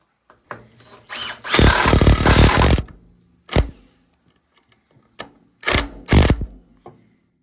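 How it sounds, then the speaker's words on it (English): A power drill drives screws into a 2x4 while a wooden planter box is built. Several loud, close whirring bursts come in an uneven rhythm: a short one, a long sustained run, then a few quick spurts separated by silence. "so that the screw will go right in the center of the 2x4 that I'm screwing into"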